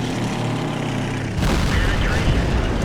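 An enemy tank's cannon fires in World of Tanks on the Sand River map: a heavy, booming shot breaks sharply over steady engine rumble and lingers in a broad roar.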